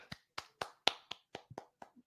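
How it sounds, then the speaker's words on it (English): Sparse golf clapping from a small number of hands, about nine separate light claps in an uneven, unhurried rhythm, close by and alone with no talking. "Golf clapping."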